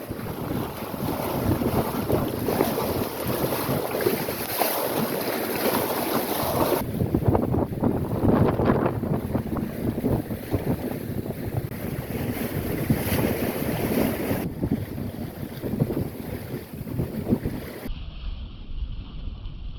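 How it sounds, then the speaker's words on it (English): A sailboat cracking along at about five knots on flat water in a freshening breeze, with a loud continuous rush of wind and water and no voices. "Wind's picked up a little bit, but it's flat water here, so we're really cracking along, doing about 5 knots"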